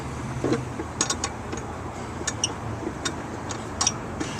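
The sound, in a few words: unscrewing threaded spare tire hold-down bolt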